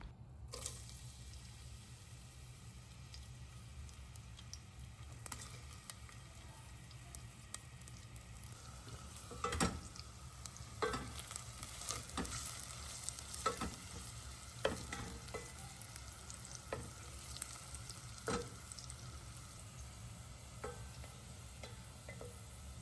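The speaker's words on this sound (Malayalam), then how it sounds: "ഒരു പാൻ ചൂടാക്കാൻ വെച്ച് അതിലേക്ക് നെയ്യ് ഒഴിച്ചിട്ട് കുറച്ച് സവാള വഴറ്റി വറുത്തെടുക്കണം" Onions sizzle quietly in hot ghee in a pan, a soft steady frying hiss broken by occasional clicks and scrapes of a spoon stirring the pan.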